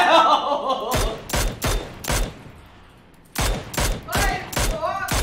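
Gunfire in the video game PUBG: several bursts of loud, sharp shots in quick clusters with a short lull between them, mixed with a player talking.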